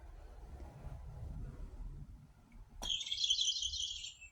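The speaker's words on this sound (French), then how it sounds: "Donc il fait un bruit d'oiseau." Following a soft knock as it is dropped, a plush toy bird starts chirping, a bright electronic tweeting trill that lasts over a second, close and clear.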